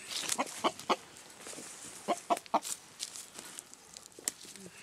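A farm rooster among hens gives several short, fairly loud clucks in uneven bursts, with quieter fowl calls scattered between them.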